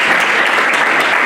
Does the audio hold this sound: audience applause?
yes